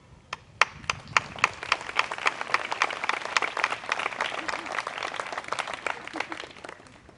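Applause from an audience at a university opening of term address starts with a few separate loud claps, then swells into a dense, steady round that carries on to the end, with no speech over it.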